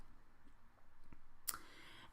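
A single sharp computer mouse click sounds once, close and crisp, against a quiet, faintly hissy room.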